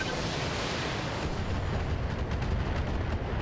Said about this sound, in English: Prepare to eat an LRM 20 plus and an LRM 5.